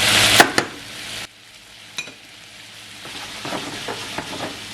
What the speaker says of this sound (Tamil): இந்த வெங்காயம் எல்லாம் நல்லா வதங்கி கொண்டு வருது.